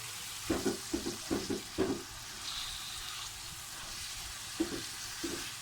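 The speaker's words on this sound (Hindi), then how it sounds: "अब इसको 10 मिनट के लिए मैं लो फ्लेम पे भूनती रहूँगी" Minced meat keema frying in a pan over a low flame, a steady faint sizzle with several soft stirring scrapes clustered early and a couple more near the end, no voices.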